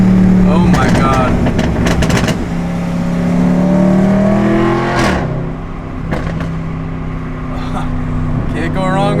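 A B8.5 Audi RS5 engine revs loudly while driving, rising and falling through several pulls with crackles between, close inside the car as people talk over it.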